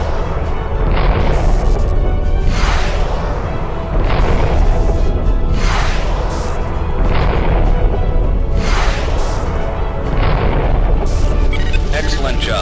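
Interceptor missiles pound a freighter in the space combat game Descent: Freespace, a run of loud, booming blasts with whooshing bursts repeating every couple of seconds over a constant heavy rumble.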